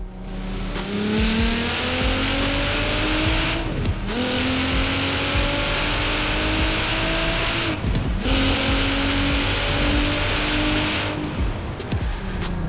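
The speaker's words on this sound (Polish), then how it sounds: "Ten GTR jest myślę, że jednym z takich niewielu samochodów, które naprawdę brzmią w tej grze bardzo ładnie." Nissan GT-R engine in Forza Horizon 4, revving hard through rising gear pulls with brief dips at each shift, loud and close throughout with tire noise and no talk.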